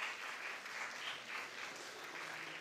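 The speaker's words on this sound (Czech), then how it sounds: "Zatleskejte Magdaleně Erlich" An audience at a live event claps warmly for a young guest, a dense, even patter of many hands heard at moderate distance, sustained throughout without talk.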